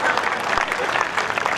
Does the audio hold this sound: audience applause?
yes